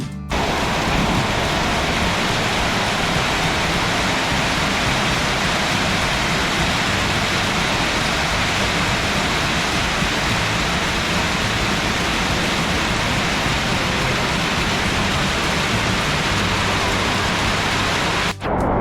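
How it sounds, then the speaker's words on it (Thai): Heavy rain pours down in a dense, unbroken roar, loud and close, with no voices. "ฝนตกหนักอีกแล้วนะครับ"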